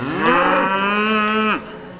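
A healthy Angus cow, kept in a cow-calf operation, gives a single loud, close moo lasting about a second and a half, with no other sounds.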